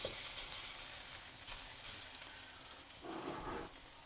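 Beaten egg sizzling in a hot wok while making seafood fried rice, a steady, soft frying hiss with a brief louder burst near the end, no talking.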